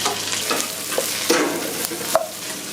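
Celery, onion and carrot frying in olive oil for a sofrito, a soft steady sizzle broken by a few sharp scraping and stirring clicks against the pan.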